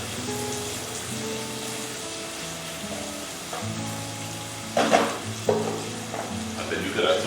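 Ham and mushrooms sizzle steadily in a hot pan, a constant frying hiss with occasional stirring scrapes growing louder in the second half, alone without talk.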